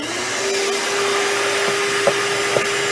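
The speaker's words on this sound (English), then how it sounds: "And then you would just take the vacuum cleaner" A vacuum cleaner runs steadily nearby, a continuous whine and hum cleaning out an HRV unit, with a couple of faint knocks.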